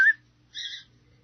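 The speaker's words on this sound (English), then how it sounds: "No, my parrot." A pet parrot gives two short whistled calls indoors, a sharp high note followed by a longer harmonic call after a pause, alone over a faint background hum.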